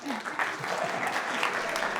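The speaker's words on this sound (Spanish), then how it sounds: "Claro, el aplauso." Conference audience applause, a short burst of many hands clapping at moderate loudness, with a voice talking over part of it.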